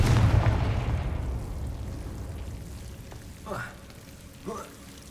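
A Confringo fire spell in Hogwarts Legacy bursts loudly and fades over a couple of seconds, followed by two shorter whooshing magical swells.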